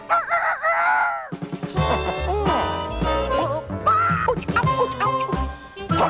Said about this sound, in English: Kellogg's Cornflakes presents Cornelius Rooster